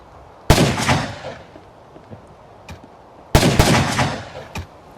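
Gunfire is traded during a raid in the game Rust, with two sharp, loud bursts of rapid shots a few seconds apart and scattered fainter distant pops between them, no voices.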